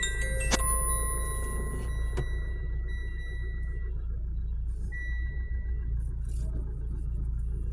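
The engine of a 2017 Mitsubishi Montero Sport idles after starting, a deep steady rumble heard from inside the cabin, overlaid by several electronic chimes and tones early on and a single beep later.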